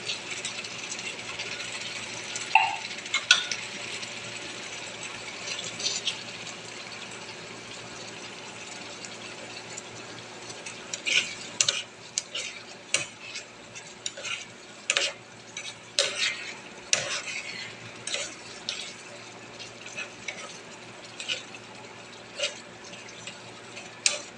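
Sardines frying with onions in a pan: constant soft sizzle with irregular crackles and pops, close and moderately loud, growing busier toward the end, no talking.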